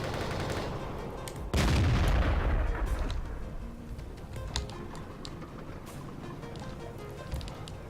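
A tank cannon in a Garry's Mod ACF battle fires one sharp, heavy blast that booms and then rolls into a long, fading rumble against a steady mechanical background.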